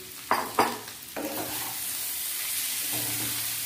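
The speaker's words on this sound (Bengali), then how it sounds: "সাবুটা দিয়ে খুব বেশি নাড়াচাড়া দরকার নেই, হালকা হাতে 3-4 বার নেড়ে নামিয়ে নেব।" Sago pilaf (sabudana) on a low flame, gently stirred a few times in a pan. Two or three soft scraping strokes come early over a quiet, continuous sizzle, with a faint later stir.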